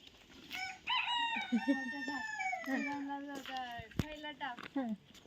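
A rooster crows close by in a long, rising call, while chickens cluck and chatter around it in a farmyard with no talk.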